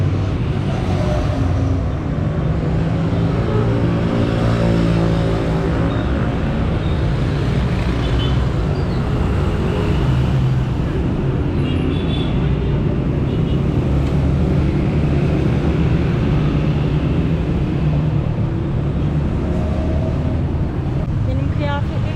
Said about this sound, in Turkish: gerçekten inanılmaz bir trafik, inanılmaz bir gürültü